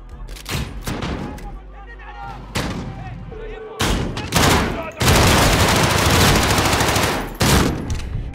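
Loud bursts of gunfire from Call of Duty: Modern Warfare (2019) in a close-quarters embassy firefight, with several heavy volleys and a long sustained barrage near the end.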